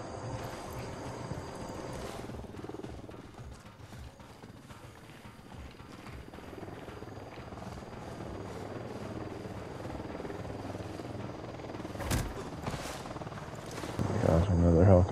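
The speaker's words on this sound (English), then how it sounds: "Got another helicopter." A helicopter in Ghost Recon holds a steady rotor drone in the background throughout, swelling louder near the end, with someone talking over it.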